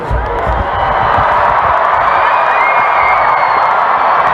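A large crowd outside Buckingham Palace cheers loudly and continuously as the newly crowned king and queen appear on the balcony, with whoops and distant clapping blending into a sustained roar.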